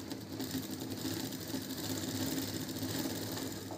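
A sewing machine stitches a blouse neck piece with a continuous, even, fairly quiet motor whir and rapid needle chatter, heard alone.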